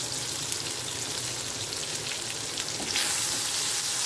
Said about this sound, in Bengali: আলুগুলো আমাদের ভাজা হয়ে এসছে